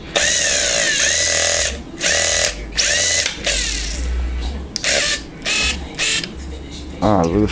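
A Torque Master 90 starter motor runs in repeated loud bursts of high whirring, revving up and cutting off in an irregular rhythm, with brief pauses between and close, harsh mechanical grinding.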